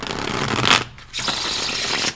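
Tarot cards are shuffled by hand in two quick riffling bursts, close and crisp, split by a short pause.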